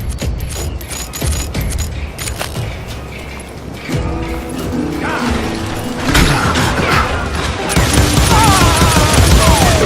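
Enemy gunfire in the Western shooter game Call of Juarez: Gunslinger, with loud rapid volleys of shots and clattering mechanical impacts that build in intensity over the stretch.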